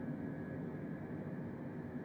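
A Boeing 747-8 jet in Microsoft Flight Simulator gives off a steady, faint engine drone with a smooth broadband rush and a thin whine on top, unchanging throughout.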